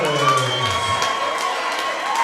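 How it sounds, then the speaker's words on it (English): A boxing crowd at a hybrid boxing league bout cheers and applauds the two fighters, a dense, continuous roar of voices and shouts with clapping mixed in, loud and sustained throughout. "we please have a big round of applause for both of our fighters"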